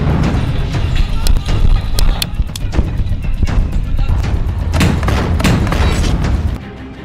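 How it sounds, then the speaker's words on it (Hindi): Blast and impact noise from an Israeli tank being hit by Hamas fighters in combat: dense, loud rumbling with repeated sharp thuds and bangs across the clip, cutting off abruptly near the end. "इजराइल के टैंक को ऐसे उड़ा रहा है हमास"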